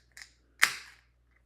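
A shaken bottle of craft beer is opened: a small click, then a sharp pop followed by a brief fizzing hiss that fades within about half a second, close and alone.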